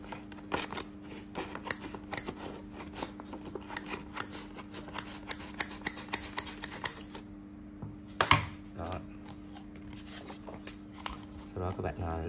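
Scissors snip through blue colored paper for a plastic-cup bird craft, a run of quick, close, crisp cuts in steady rhythm, with someone talking softly over them.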